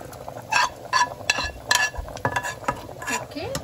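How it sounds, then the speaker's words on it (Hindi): A spoon stirs masala into rajma in a pressure cooker with repeated scraping strokes and light metallic clinks, close and moderately loud, set against a faint sizzle. "I just put the masala and mix it up nice."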